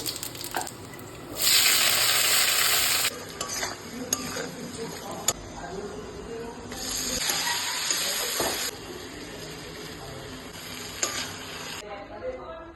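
Panch phoron spices hit hot oil for tempering alongside bay leaf, dried chilli and peanuts. The result is bursts of loud sizzling hiss with clinks of a spoon stirring in the pan and quieter stretches in between.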